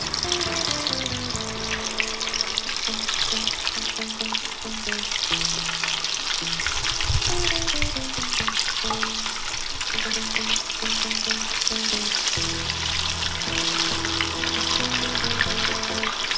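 A spoonful of batter drops into hot oil and fries with a loud, continuous crackling sizzle that stays steady throughout, close up, while faint music plays underneath.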